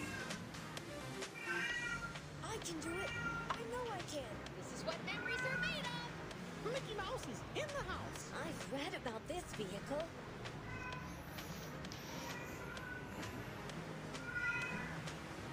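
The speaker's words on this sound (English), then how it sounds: "That's my cat meowing." Repeated meowing from a cat in a room, clear and fairly close, heard alongside a person talking and the faint background of a mobile racing game.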